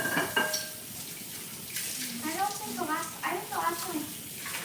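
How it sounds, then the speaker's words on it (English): Tap water runs and splashes over a soup tureen as dust is rinsed off, with light clinks of dishware and people talking over the running water nearby. "to wash the dust off of this"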